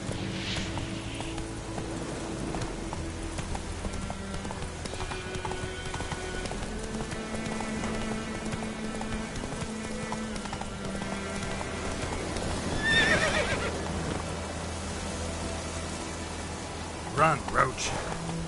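Roach the horse in The Witcher 3 video game, steady hoofbeats over in-game background music with a brief neigh near the end, while a player speaks over it.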